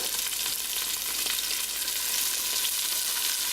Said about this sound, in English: You can hear that sizzle right away.